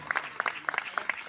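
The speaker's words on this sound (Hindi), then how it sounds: "एक बारी जोरदार ताली बजाना" A crowd at a welcome ceremony applauds a man and his team, a short burst of brisk, dense clapping close by, with a voice faintly underneath.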